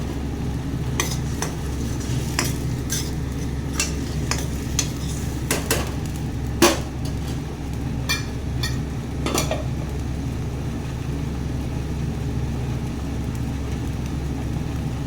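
A paste of garlic, green chilli and ginger frying in a pan for chicken rejala, with a low steady sizzle over a constant background hum and a series of sharp spatula clicks and scrapes.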